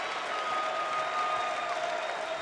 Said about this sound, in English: The crowd is loud.